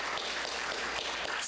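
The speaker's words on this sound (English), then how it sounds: "Can we have a little bit of applause for Sandra?" A congregation at a Sunday service gives a short round of applause for the musician, a faint, distant patter of hands clapping that holds steady through the brief moment.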